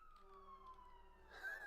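A police siren wails faintly in the distance, its tone sliding slowly down, then rising again near the end.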